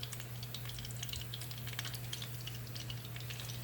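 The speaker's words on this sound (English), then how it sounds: "the oil is hot now so I'm going to deep fry the basil first" Basil deep frying in hot oil gives a steady, close sizzle thick with rapid crackles and pops, under a constant low hum.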